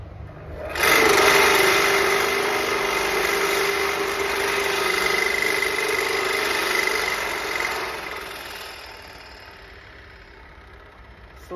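A concrete grinder starts up after a short pause and runs loudly with heavy vibration, a continuous buzzing whine that gradually winds down toward the end.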